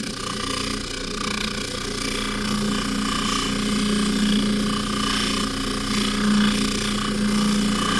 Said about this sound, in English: And we're just very lightly, very slowly polishing the necklace.